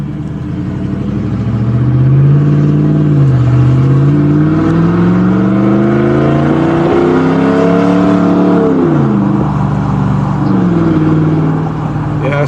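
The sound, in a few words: 2017 Ram 1500 starting and driving without muffler and tailpipes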